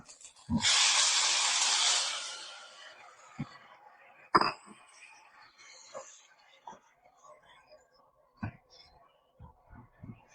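Onions hitting hot oil in a pan for mutton soup give a loud, near sizzle that flares up, holds for about two seconds, then falls to a low crackle. Scattered knocks and faint voices follow.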